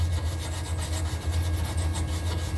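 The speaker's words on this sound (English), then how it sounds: "Where's that little brush at? Get some of this slag off." A small brush scrubs welding slag off a 3/16-inch steel frame patch on a 1998 Ford Ranger 4x4 after flux core welding, a continuous close rasping scrape with a low hum beneath.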